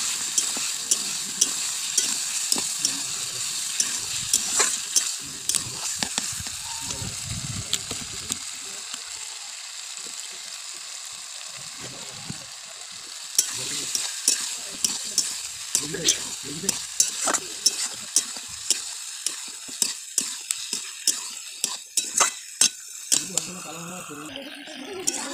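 Chicken frying in a small amount of oil: a continuous sizzle with frequent scraping and clicking as a spatula stirs the pan, while someone talks over it at intervals.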